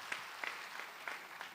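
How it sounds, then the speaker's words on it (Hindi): Applause from an audience at a Hindi comic poetry gathering for bank employees: a faint, distant patter of scattered claps, with a few sharper individual claps standing out. "एक बार तालियां ऊपर से सब बजा देंगे तो अच्छा लगेगा।"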